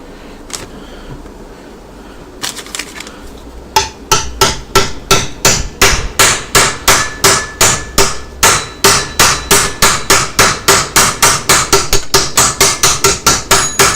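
A hammer strikes a part into a Holden Commodore Trimatic TH180 automatic transmission yoke, first a few scattered taps and then a long, fast, steady run of sharp metallic blows, loud and close in a workshop.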